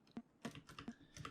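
A sound-designed snare-style hit built from an ocarina sample repeats as short, dry, clicky percussive taps, about five in quick succession, heard alone.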